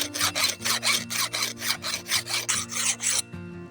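Repeated strokes of a hand file smoothing scarred metal to take out bumps left by a pipe wrench, a steady rasping rhythm of about a dozen close, moderately loud passes over a low background hum, ending abruptly.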